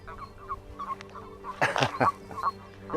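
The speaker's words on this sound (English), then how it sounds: "They sound like a bunch of ducks, but they're not ducks, they're toads croaking." A chorus of toads croaking in short, duck-like quacking calls, with a louder cluster of overlapping croaks bursting out midway.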